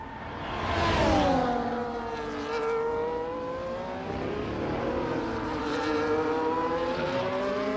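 Formula 1 cars howl past on the formation lap at Imola, their high-pitched engines rising and falling one after another as several cars go by, loud and close, with no talk over them.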